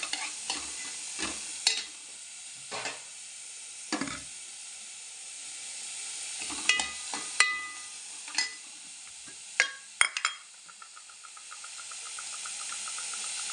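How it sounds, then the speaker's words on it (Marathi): Chopped onions sauté in hot oil in a pan until golden for homemade pav bhaji. A steady sizzle runs throughout, broken by sharp spatula scrapes and clacks against the pan, with no voices. "कांद्याला चांगलं सोनेरी रंग पर्यंत परतून घेणार आहोत"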